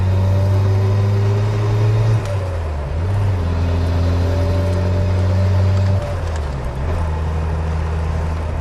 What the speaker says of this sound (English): I like hearing that turbo spool up.